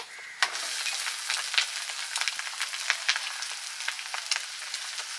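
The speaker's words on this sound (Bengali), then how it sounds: "লবণ দিয়ে দিচ্ছি, সেদ্ধ করে রাখা চাও দিয়ে দিচ্ছি।" Boiled chow mein noodles sizzle and crackle in a hot pan as they are stir-fried, a steady close frying hiss with scattered pops and stirring clicks and no voices.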